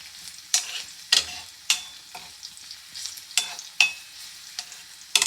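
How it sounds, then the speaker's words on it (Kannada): Crushed garlic fries in hot oil, sizzling steadily while a spoon scrapes the pan in repeated sharp strokes. "ಬೆಳ್ಳುಳ್ಳಿ ಚೆನ್ನಾಗಿ ಬ್ರೌನ್ ಆಗೋ ತನಕ ಸ್ವಲ್ಪ ಫ್ರೈ ಆಗಬೇಕು."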